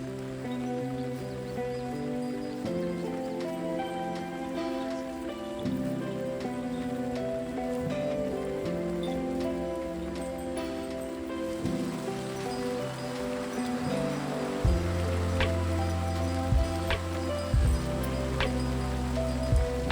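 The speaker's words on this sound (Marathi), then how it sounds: "पाऊस इतका पडतोय" Continuous heavy monsoon rain falling steadily in the Konkan, Ratnagiri district, a dense patter over a low drone, with a few sharp clicks toward the end.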